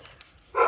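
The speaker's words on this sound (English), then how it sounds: "you can hear my dogs barking in the background" A single short dog bark sounds at a distance after a moment of near quiet.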